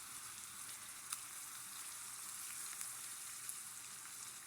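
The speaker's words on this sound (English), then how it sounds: "You gotta get them peppers cooking" Peppers fry in a pan turned up on high heat, a faint, even sizzle with a few sharp pops and crackles standing out, nobody talking.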